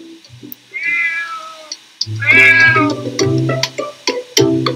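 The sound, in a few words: cat meowing, Larry the Downing Street cat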